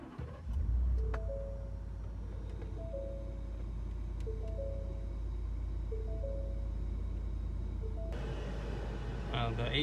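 Drift car starting up and idling in the cabin with a steady low engine hum, a repeating chime tone sounding at regular intervals, and a louder rush of air conditioning kicking in near the end.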